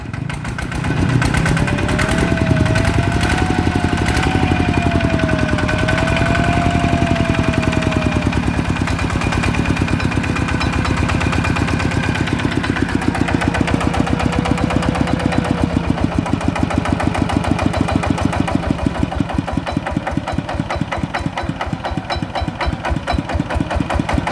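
A 110cc motorcycle engine idles steadily up close, a continuous low chugging with a faint wavering whine, running alone for the whole stretch.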